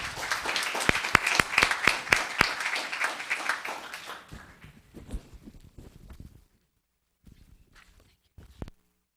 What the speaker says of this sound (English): One more round of applause for Ms. 2 Kates.